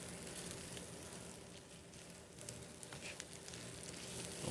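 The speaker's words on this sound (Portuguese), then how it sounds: "Vamos dar essa leve fritadinha, aproveitando a manteiga do bacon." Onion and bacon fry in rendered bacon fat in a pan, a steady close sizzle and crackle that holds evenly throughout with no talk, swelling slightly louder at the end.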